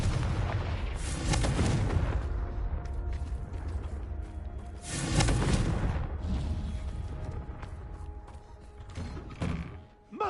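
Confringo fire-spell blasts from Hogwarts Legacy land in two big booming bursts, with rumbling debris, creaks and mechanical clatter filling the gaps in a loud, continuous game soundscape.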